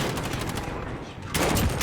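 Rapid video game gunfire, a dense continuous rattle of shots throughout, briefly easing and then returning louder near the end, with battle noise layered over it.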